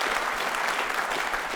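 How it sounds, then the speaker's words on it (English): Brief burst of audience applause on a television show, dense steady clapping at moderate volume. "give me a round of applause."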